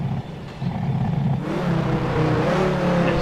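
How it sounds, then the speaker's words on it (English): Car engine revving in the video game Grand Theft Auto IV, a car said to sound like a Dodge Viper, rising from a low idle into a loud sustained rev, close and alone. "it sounds exactly like a Dodge Viper"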